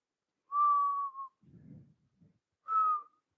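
A person whistles two sustained single-pitch notes during a core-strength workout, separated by a soft breathy exhale, clear and close with silence around them.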